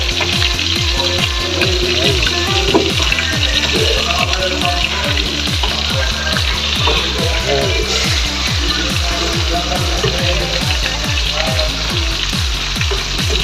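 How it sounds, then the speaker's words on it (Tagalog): A pot of sinigang soup with hasa-hasa fish bubbles and sizzles vigorously on the stove with a dense rapid popping rhythm, close and loud throughout, no talking heard. "Kumukulo na."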